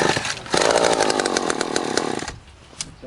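A chainsaw, apparently sluggish and slow to start, runs with a rough buzzing drone at close range for about two seconds before dropping off, with a faint knock near the end.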